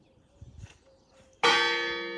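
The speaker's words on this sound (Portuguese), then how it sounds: "olha, agora faltava também o sino." A church bell strikes once, loud and close, its bright metallic tone ringing on and slowly decaying after a quiet stretch, during a Sunday Mass in Lent at a parish church in Espinhel, Águeda.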